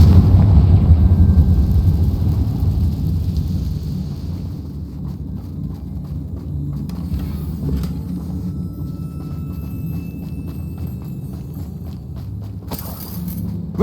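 A Confringo fire-blast spell explodes in Hogwarts Legacy: a heavy, booming rumble hits loud at the start, then settles into a lower, lingering roar with scattered crackles and footstep-like thuds.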